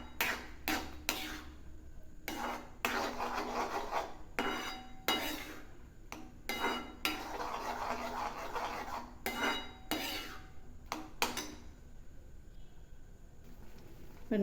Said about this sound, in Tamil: நல்லா இது சுருண்டு நல்லா வர அளவு நம்ம நல்லா கிளறி விட்டுகிட்டே இருக்கலாம்